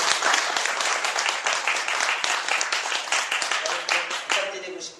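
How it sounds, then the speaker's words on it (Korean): Dense, sustained applause from an audience at a candidate speech forum for an association election, steady clapping filling the whole stretch and easing slightly near the end. "여러분 박수 한번 쳐주세요."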